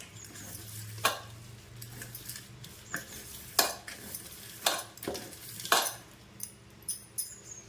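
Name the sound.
stirring ragi vermicelli with sugar and oil in a pan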